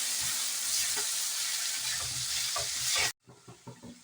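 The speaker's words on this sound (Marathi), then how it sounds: "आता ह्याच्यामध्ये पण भात घालूया हलक्या हाताने आपल्याला मिक्स करायचं आहे" Cooked rice is gently mixed with carrots and other winter vegetables in a hot pan, soft scraping stirs over a steady sizzle that cuts out abruptly, then a few quieter spoon scrapes follow.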